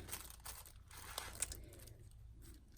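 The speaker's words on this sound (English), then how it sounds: "I'm going to rip this. Just rip this off." Paper is torn off by hand while journaling, a few faint, quiet rips and crinkles in a short sequence close by, with no talking.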